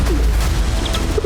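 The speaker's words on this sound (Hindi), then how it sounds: "इस सुनसान इलाके में हमारी आंखों के सामने एक कबूतर था" A pigeon cooing in a remote, desolate Himalayan area above 12,000 feet, with a few soft coos set against steady wind or ambient noise.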